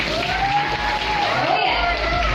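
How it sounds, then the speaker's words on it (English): An audience applauds and cheers in a dense, steady wash of clapping that fills the whole short moment without letup. "Audience, you can clap and cheer."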